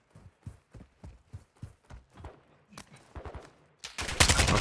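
Gunfire in the DMZ shooter game, a steady series of evenly spaced single shots, then a tighter quicker cluster, ending in a loud dense burst of heavy fire.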